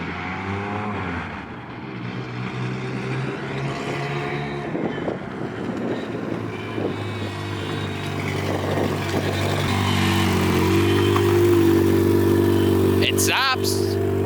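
A loud K24-swapped Honda EK engine drones steadily on a dyno while still cold, climbing in pitch toward the end, with people talking over it and a short sharp noise near the finish.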